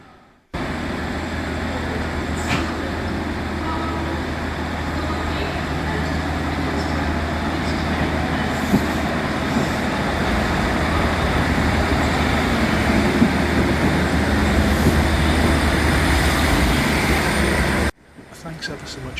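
A special Northern train idles and rumbles at Newcastle station on a rainy day, a loud, steady engine drone with a broad wash of noise that continues evenly, then cuts off abruptly near the end.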